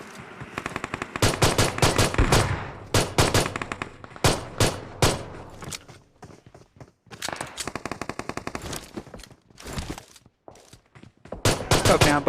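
Rapid gunfire from a pistol and shotgun crackles through a video game fight, with loud, dense bursts of shots, short lulls and renewed volleys.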